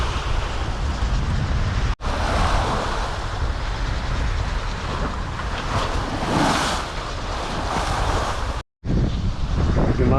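Strong wind roars steadily across the microphone aboard a sailboat on the Indian Ocean, loud and broadband with rushing water beneath, broken by two brief dropouts.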